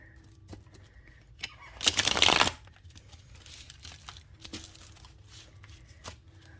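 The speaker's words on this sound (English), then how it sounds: "I'm gonna live shuffle the tarot." A brief papery riffle of tarot cards being shuffled, quick and close, standing out once against an otherwise quiet room with faint scattered clicks.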